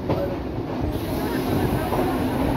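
Shahid Express train pulling into Bolpur Shantiniketan station, a steady close rumble of wheels and carriages with faint clickety-clack, running continuously with some voices mixed in.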